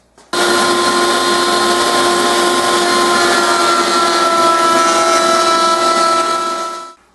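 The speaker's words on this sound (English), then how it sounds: "I've got a 1/2 inch bit set up on my router table," A router table with a 1/2 inch bit cuts a wood strip for a picture frame, giving a loud, steady, close high-pitched whine for about seven seconds before spinning down.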